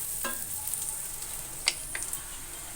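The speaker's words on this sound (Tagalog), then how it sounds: "haluin ko lang" Pasta sauce sizzles gently in a pan while a spoon stirs it, with a few crisp scrapes and clicks over a low, steady hiss and no voices.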